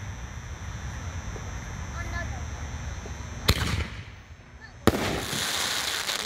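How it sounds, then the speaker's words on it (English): Crackling Willow canister firework shell going off outdoors: a steady low rumble, then a sharp boom at mid-clip and a second sharp report followed by sustained crackling hiss, with a voice faintly in the background. "This is the Crackling Willow shell."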